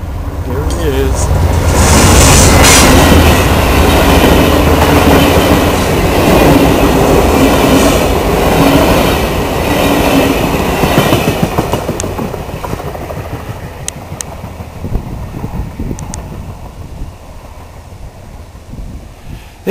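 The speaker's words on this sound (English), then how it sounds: "recording a train passing near in Quebec City" A train passes close by in Quebec City, a loud rolling rumble with clickety-clack of rail cars that peaks early and then slowly fades as the cars go by.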